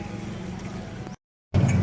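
A motor tricycle's engine hums low and steady nearby, drops out briefly to silence, then returns louder and rougher as it draws closer.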